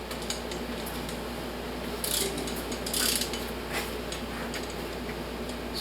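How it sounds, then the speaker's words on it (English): A ratchet torquing the cylinder head bolts on a 327 engine fitted with an Edelbrock head: short bursts of mechanical clicking over a steady background hum, with a couple of louder clatters near the middle. "we're fixing to put the bolts in here and torque it down"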